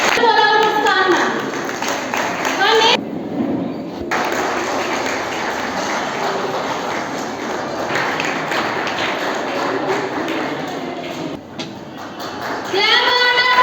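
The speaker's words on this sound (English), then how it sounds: "Clap harder for her." Students in a school audience clap continuously in a dense, steady wash of applause that lasts most of the clip, with a brief lull and a voice breaking in near the start and end.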